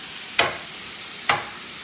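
Japchae, Korean stir-fry glass noodles with vegetables, tossed in a hot pan: two short, bright scraping sizzles about a second apart, close and fairly loud over a quiet background.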